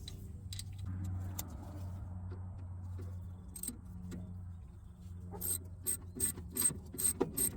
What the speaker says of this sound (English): here I'm gonna use my square 5/16 on the adjustment screw on the bottom.